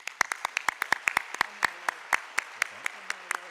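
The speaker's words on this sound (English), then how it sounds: "I just want to give one more round of applause for everybody who did such great things today" Scattered, sharp hand claps from an audience at an annual meeting ring out close and distinct, a thin, irregular round of applause with no voices over it.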